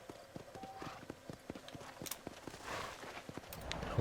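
Horse hooves clip-clopping at a walk in the Red Dead Redemption video game, a steady rhythmic series of soft thuds over faint background game ambience, fairly quiet overall.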